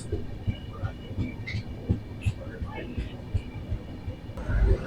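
Goods trains at Palasa railway station: a steady low rail rumble with scattered metallic clacks and squeals, a heavier rumble swelling near the end, with voices in the background.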